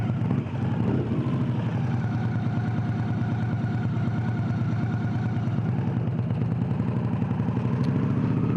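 A Victory Cross Country touring motorcycle engine runs at a steady idle, loud and close, with an even low rumble and no speech throughout.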